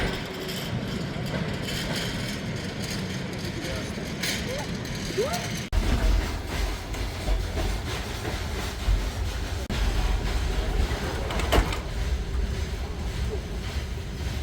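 A train rolls across the Kazakh steppe in Kazakhstan, giving a steady low rumble with rattling carriage noise that grows heavier and louder partway through, a continuous close wash with no clear voices.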